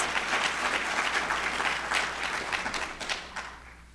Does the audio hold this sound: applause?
yes